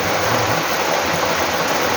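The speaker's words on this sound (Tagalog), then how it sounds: "Ay, grabe na yung ulan." Heavy rain pours in a dense, steady hiss with no letup, loud and close throughout.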